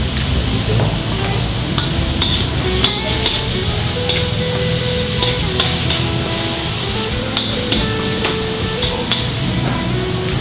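Pork liver frying and being stirred in a pan for pancit chami, a constant close sizzle with scraping stir sounds and occasional clinks, no talking.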